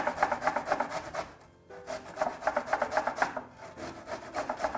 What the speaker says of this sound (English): so I'm going to grate the ginger.